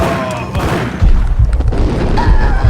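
Gunfire and explosions in the survival horror video game Silent Hill 4: heavy booming blasts and sharp bursts thump repeatedly through a dense, noisy game mix after a brief stretch of speech.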